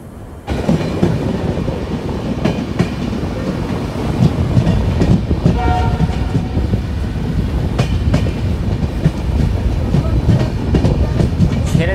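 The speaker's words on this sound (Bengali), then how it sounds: "ছেড়ে দিল আমাদের ট্রেনটি ডিব্রুগড় স্টেশন থেকে" A long-distance passenger train pulling out of Dibrugarh station, heard from on board as a steady, loud rumble with rhythmic wheel clatter and faint squeals; no horn stands out.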